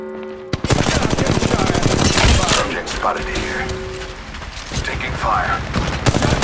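Automatic gunfire rattles in sustained bursts during an Apex Legends Mobile match on Android, loud and dense, with game effects and announcer-style voice lines mixed in.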